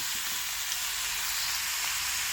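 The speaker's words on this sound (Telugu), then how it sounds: "క్యారెట్ వేసి బాగా ఫ్రై చేయాలండి. ఇందులోనే మనం కాజు కూడా వేసుకోవాలి." Carrots, onions and cashews fry in a pan for a paneer curry, giving a steady, close, even sizzle that hisses without a break from start to finish, with no voices.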